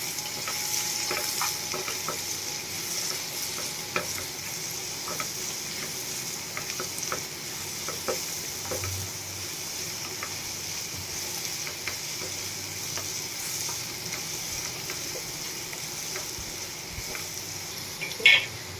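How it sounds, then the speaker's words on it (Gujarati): Grated raw papaya sambharo is stirred in a sizzling pan with turmeric and salt: a continuous moderate frying hiss broken by repeated scraping clicks of the spoon, with one louder knock near the end. "આપણે એમાં હળદર એડ કરશું ચપટી જેટલી। સ્વાદ પ્રમાણે મીઠું એડ કરી દેશું। બધું બરાબર મિક્સ કરી લઈએ।"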